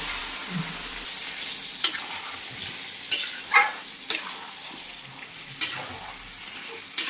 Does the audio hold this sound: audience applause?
no